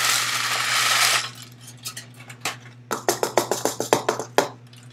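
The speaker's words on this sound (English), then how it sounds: "Let's get our cacao nibs in there." Cacao nibs added to a home-brewing recipe: a loud initial rush of pouring, then a rapid run of sharp, rattling clinks as the nibs drop into a container over a steady background hum.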